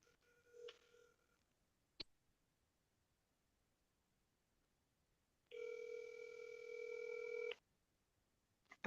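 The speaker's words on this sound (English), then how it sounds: "I'm gonna call my buddy Jack." A telephone being dialed to phone a friend: a short burst of keypad tones early on, a sharp click, then a steady dial or ringback tone holding for about two seconds, otherwise quiet.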